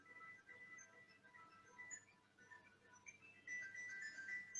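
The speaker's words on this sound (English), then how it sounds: "Sorry, that is my phone." A mobile phone ringtone goes off during a seminar talk, a faint, steady melodic tone repeating in the background for several seconds, quiet and somewhat distant.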